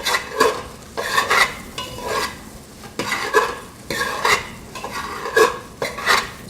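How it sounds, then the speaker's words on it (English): A tofu dish being stirred in a pan, with repeated rhythmic scrapes and clatters of a utensil against the metal over a light sizzle, close and fairly loud. "I'm just gonna stir this a little bit more."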